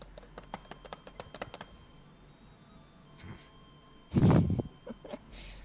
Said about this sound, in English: I like how you could just hear the light sounds of clicking and clacking from your keyboard.